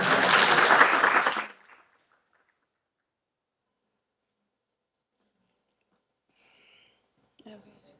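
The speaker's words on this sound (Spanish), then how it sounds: "Un aplauso, por favor." An audience at a conference breaks into applause, a dense burst of clapping lasting about a second and a half before cutting off into silence, followed by a few faint small sounds.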